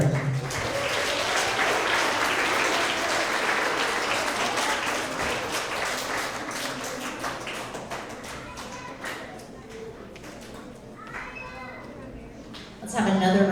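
Audience at an end-of-year school award assembly for third to fifth graders applauds the award winners, a dense wash of clapping that gradually thins toward the end and swells again briefly, with voices mixed in.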